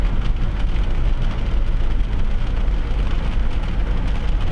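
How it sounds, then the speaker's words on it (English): Steady rain falling on a moving car, a dense, even hiss and rumble of drops and road noise heard from inside the vehicle, loud and continuous with no talking. "It's starting to rain a little bit harder now."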